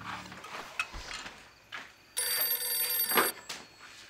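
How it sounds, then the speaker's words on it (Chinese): A telephone rings indoors in a home, a bright trilling bell burst arriving after a few soft clicks and knocks, loud and close, then cutting off. "我来接电话。"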